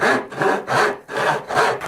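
Hand saw cuts wood for a half lap joint, with four steady rasping push strokes in an even rhythm. Each stroke is close and clear with short gaps between, and no voices.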